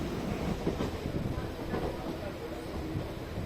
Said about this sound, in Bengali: ট্রেন যথারীতি 2 মিনিট দেরি করে 8:37-এ ব্যারাকপুর স্টেশনের 1-এর এ প্ল্যাটফর্ম থেকে শিয়ালদা যাওয়ার পথে যাত্রা শুরু করে